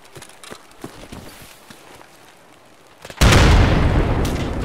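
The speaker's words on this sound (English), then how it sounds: "Amazing grenade." Grenade detonating in the video game Escape from Tarkov: a sudden, loud, close blast with a long roaring tail, preceded by quick running footsteps and light clatter.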